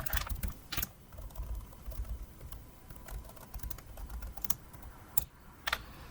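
Typing on a computer keyboard: close, irregular runs of crisp keystroke clicks with brief pauses, no voices.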